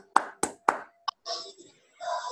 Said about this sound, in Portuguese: Gente, palmas pra Rivka.